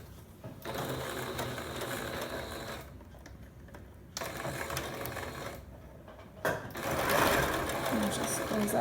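A sewing machine runs in steady bursts with short pauses, stitching closed the opening of a pair of reversible shorts.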